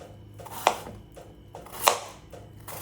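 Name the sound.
cutting raja kilangu tuber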